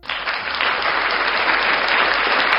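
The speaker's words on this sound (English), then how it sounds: "Let's give Lila an applause." Dense, steady applause from a crowd greeting a guest named Lila, rising quickly and holding at full strength without talk.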